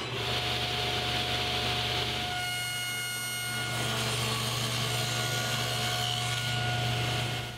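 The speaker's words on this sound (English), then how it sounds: "Now I'm going to run all the molding through to make my first cut." Table saw running Sapele wood molding through its blade, a loud continuous motor whine with a steady cutting rasp that shifts in tone as pieces feed through.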